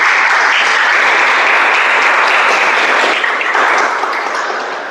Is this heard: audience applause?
yes